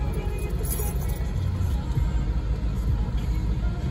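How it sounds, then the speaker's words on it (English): A Ford Mustang sports car driving along, its engine and road noise forming a steady, loud, even rumble heard from inside the car with no talking. "I am just so happy that I'm driving my first sports car right now."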